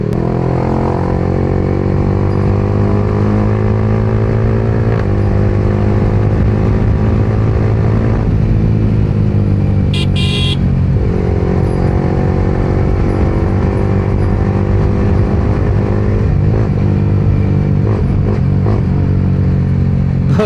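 A 2025 Yamaha R15M motorcycle engine at high speed, a loud steady drone with layered tones and constant wind roar, one short shift blip partway through, no voices.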